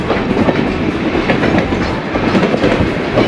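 A museum rail car rolls along the tracks with a steady, loud rumbling roar and a faint clickety-clack of wheels over rail joints, heard from on board.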